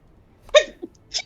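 A single close sneeze, sharp and brief, followed by a small catch of breath and a faint trailing sound.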